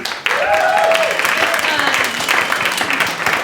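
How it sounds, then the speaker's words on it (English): A round of applause from a theatre audience for a group of works in progress. Loud, steady clapping runs throughout, with a cheering voice or two rising over it early on. "Let's give a round of applause to all of them."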